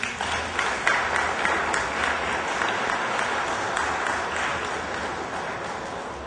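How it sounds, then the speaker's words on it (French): Steady applause from diners at a charity gala dinner, a continuous wash of clapping at moderate volume throughout. "que je vous demande d'applaudir."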